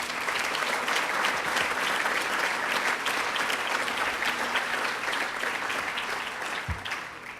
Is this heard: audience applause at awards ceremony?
yes